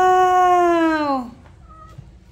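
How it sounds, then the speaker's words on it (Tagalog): A pet cat lets out one long, clear meow that bends downward, close and loud, followed by quiet room noise and a faint second sound near the end. "Yan ang pusa ko."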